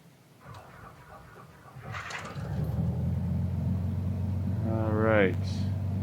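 Piper Archer II propeller engine starting in MSFS 2020: a few clicks and cranking, then the engine catches into a loud steady low rumbling drone that holds to the end, with a brief rising whine near the finish.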